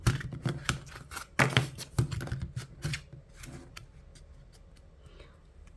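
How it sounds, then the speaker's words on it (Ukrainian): Cards are shuffled nearby in quick bursts of crisp riffling clicks and flutters, then settle into quieter soft shuffling. "на останок трішки перетасую карти."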